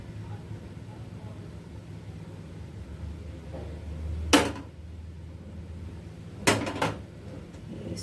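A metal tadka pan is set down on a gas stove in a home kitchen, two sharp clanks several seconds apart, the second followed by a quick rattle, over a low steady burner hum.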